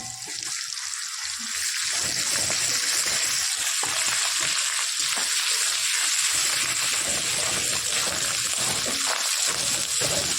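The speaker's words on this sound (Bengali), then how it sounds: "আদাটা একটু ভালো করে ভেজে নেব" Ginger paste frying in a pan while cooking bottle gourd with prawns, a dense continuous sizzle that swells after the first couple of seconds and stays loud and close throughout, no talking.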